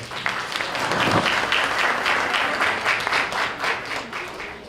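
At a book presentation held by the UCH Faculty of Humanities and Social Sciences, the audience applauds a faculty coordinator. The applause is steady and fairly loud, made of many close hand claps that carry on without talk.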